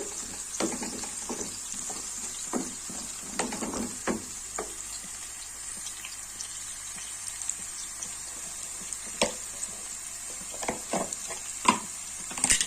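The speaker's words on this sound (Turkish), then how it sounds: "Güzelce kavurayım. Soğanımla yeşil biberimi." Onion and green pepper sizzling in a pan, a constant crackling hiss broken by scattered clicks and scrapes of stirring.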